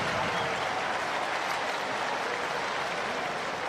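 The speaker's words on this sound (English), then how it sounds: "Hear the crowd." A cricket crowd at a Surrey v Essex Vitality Blast match reacts after a dot ball. It is a steady, dense roar of many voices and scattered clapping that holds at an even level throughout.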